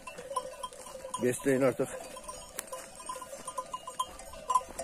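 Young goats and lambs bleat on a farm, with one clear quavering cry and fainter calls scattered around it, while a person talks nearby.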